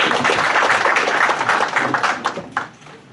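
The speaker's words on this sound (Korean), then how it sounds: "박수 한번 보내주시면 고맙습니다" A crowd applauds with dense, steady clapping that gradually thins and fades out after a few seconds.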